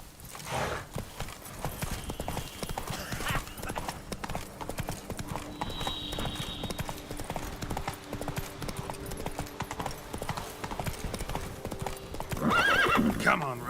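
A horse gallops in The Witcher 3: Wild Hunt, its rapid hoofbeats drumming steadily throughout, and a neigh rises near the end while a voice speaks over the ride.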